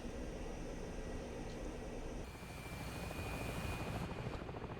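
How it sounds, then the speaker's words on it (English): Helicopter landing on a Russian aircraft carrier in the flight simulator game DCS, a steady dense rotor and engine roar that stays loud and constant throughout, with no talking. "We got a helicopter landing up here."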